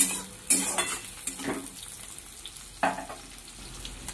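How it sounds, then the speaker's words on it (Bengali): Onions frying in a wok for egg chowmein, a quiet steady sizzle with a few brisk scrapes and knocks of a spatula stirring, no voices. "পেঁয়াজটা একটু ভাজা ভাজা হোক"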